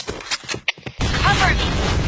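A grenade explosion in the shooter game Point Blank, a loud sustained blast with rumbling debris that follows several seconds of quick in-game voice and effects, close and dominant.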